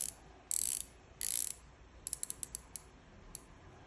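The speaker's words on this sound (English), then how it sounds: "it's got a very satisfying click on this bezel" A rotating bezel on a Seiko 62MAS dive watch being turned: two short raspy bursts, then a run of crisp, close, evenly spaced ratcheting clicks with no voices.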